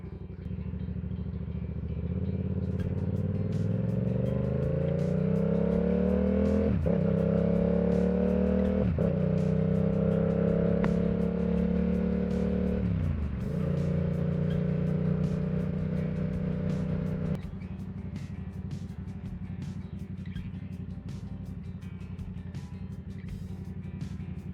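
A 2022 Yamaha R7 motorcycle rides along a highway, its engine droning steadily and rising in pitch through several gear changes, with wind rush filling the background.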